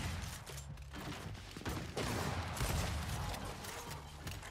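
Gunfire in the video game Gears 5 during a ranked Control match, a dense crackle of repeated shots with mechanical clatter throughout, steady and moderately loud with no clear pauses.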